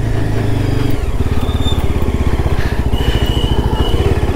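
A Yezdi Adventure 2022 motorcycle engine thrums loud and close while being ridden, its rapid steady firing pulses settling into an even throttle after a brief shift early on.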